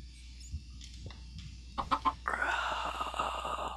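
A baby chicken in Minecraft gives a few short clucks, then a louder, sustained squawking burst follows, close and clear with no talking.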